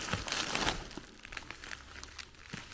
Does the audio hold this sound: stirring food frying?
no